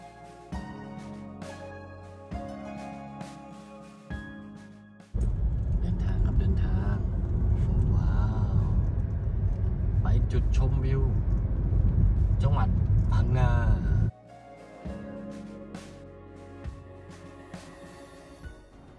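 A car driving along a coastal road in Phang Nga gives about nine seconds of loud, steady road rumble, framed by quieter stretches with music and talk.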